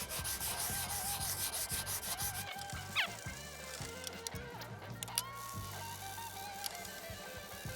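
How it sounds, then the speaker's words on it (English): Hand sanding on a 1983 Ross Mt. Hood bicycle frame, a quiet, close rhythm of rubbing strokes with short scrapes and small knocks between passes. "Have to do a lot of sanding."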